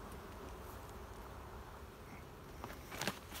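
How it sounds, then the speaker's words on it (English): Honey bees buzzing around two open brood boxes during a hive inspection, a soft continuous drone with a few louder close passes near the end. "2 brood boxes, there's bound to be bees everywhere"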